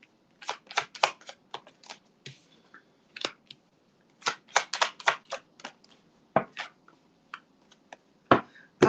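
Tarot cards being shuffled give off bursts of crisp riffling and snapping, irregular clusters of sharp flicks close up with short pauses between them.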